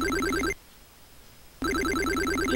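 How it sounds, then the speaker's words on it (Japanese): A telephone ringtone plays a loud, repeating electronic chime pattern in two bursts, separated by about a second of near silence. "電話 鳴 ってるな"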